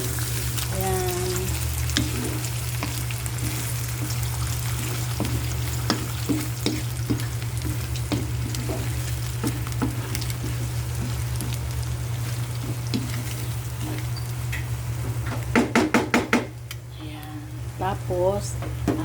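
Fried rice is stirred in a sizzling pan with a steady low hiss, repeated spatula scrapes and clatter close by, plus a brief burst of louder clanking near the end.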